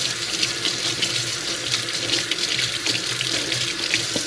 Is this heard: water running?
yes